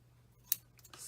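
A single crisp scissors snip through ribbon while tying a small bow on a decorated coffee cup, one sharp close cut against a quiet room with a faint steady hum.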